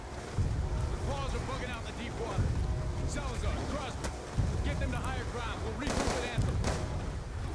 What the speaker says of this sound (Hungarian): Sodor a víz.